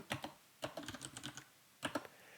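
Keys on a computer keyboard clack in three short bursts of typing, close and fairly quiet, with brief pauses between runs and no talking.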